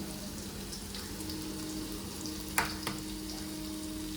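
Garlic sizzles and crackles softly on a hot tava, a steady frying hiss with a couple of sharper pops, no voices.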